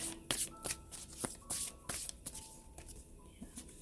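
Tarot cards being shuffled by hand in a quiet room, a quick run of crisp riffling slaps and soft card clicks in uneven bursts, close and fairly quiet, with no talking.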